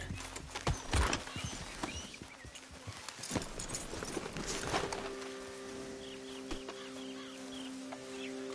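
Horse hooves clip-clop in the Red Dead Redemption 2 video game, with irregular hoof strikes in the first half over a steady game background of ambience and faint bird calls.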